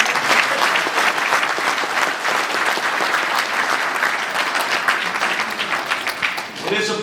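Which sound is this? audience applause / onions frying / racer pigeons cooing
audience applause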